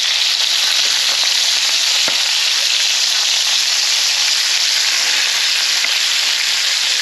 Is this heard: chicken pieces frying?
yes